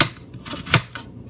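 A knife chops an apple into chunks on a cutting board for a simple salad, giving a few sharp close knocks with one louder strike in the middle.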